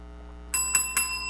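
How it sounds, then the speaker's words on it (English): A bright ringing bell sounds three quick times as a cue for a show segment, each ring clear and metallic with a short ringing tail over a low hum. "love that bell"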